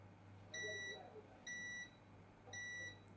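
A multimeter on a continuity test across resistors on a mobile phone circuit board sends out three steady electronic beeps, each about a third of a second long, evenly spaced over a faint steady hum.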